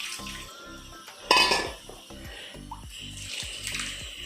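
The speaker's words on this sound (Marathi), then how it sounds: "तुमकां घाई आसा कुकर उगडूची जाल्यार न्ही अशें उदक घाला, नळा अशें दवरा, आवाज येतलो कुकरांतसून असो" Tap water poured over a hot pressure cooker in a home kitchen, with a sharp hissing splash that swells briefly and fades, set among light pot and utensil clatter and a steady rhythmic background thump.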